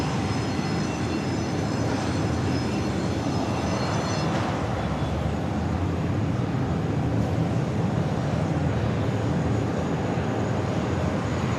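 A large airliner, an A350, rumbles loud and steady at JFK airport, a broad continuous engine roar that swells slightly midway, with no one speaking.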